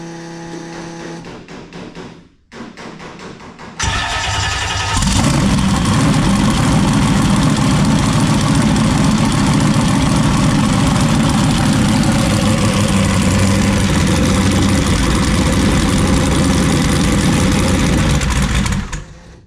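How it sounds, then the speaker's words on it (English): A mini jet boat engine sputters briefly, cuts out, then starts on gasoline and settles into a loud, steady, rumbling idle that runs for over a dozen seconds before stopping abruptly. "Well, it started on gas and shut off."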